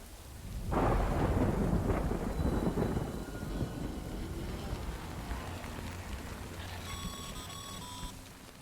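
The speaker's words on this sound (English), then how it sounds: "Good thing it's raining." Thunder and rain in the video game Death Stranding: a heavy rolling thunderclap booms in loudly and rumbles away over steady rainfall, and a few brief electronic tones chime near the end.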